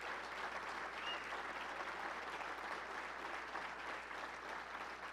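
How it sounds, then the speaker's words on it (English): An audience at an awards show gives sustained, even applause for Buster Mayberry, a dense wash of clapping from a large crowd lasting the whole stretch. "give Buster Mayberry a big round of applause"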